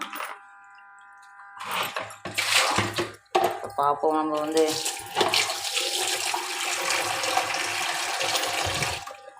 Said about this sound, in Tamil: தண்ணி ஊற்றி நான் வேறு தண்ணி மாற்றி எடுத்துக்கிட்டேன்